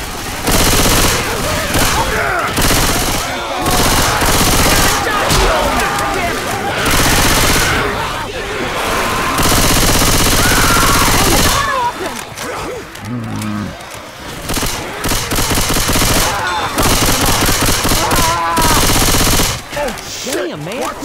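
Rapid automatic gunfire from Left 4 Dead 2 fills the scene, loud and near, in dense bursts with short pauses, while voices shout and talk over the shooting.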